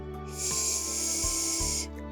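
A steady breathy hiss held for about a second and a half, made by a voice imitating a snake, close and fairly quiet with low background hum.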